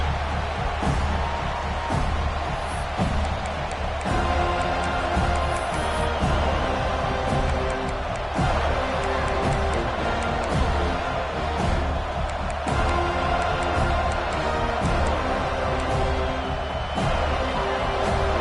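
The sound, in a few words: football stadium crowd noise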